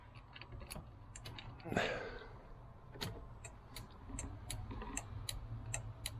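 Flashing indicator relay in a VW Vanagon T3 after an LED upgrade clicking at a quick, steady hyper-flash rate, faint ticks over engine rumble and a low background hum.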